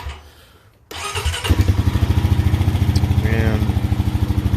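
A Honda TRX420 ATV engine fires up after a brief quiet moment and runs at a close, steady idle with a rapid, even putter.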